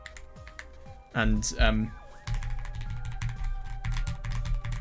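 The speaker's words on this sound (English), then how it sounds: "this is the Keychron V3 if you're interested, but yeah, this is what the keyboard sounds like" Keys on a Keychron V3 mechanical keyboard clack in quick, steady runs of close clicks, with a voice speaking briefly before the typing picks up.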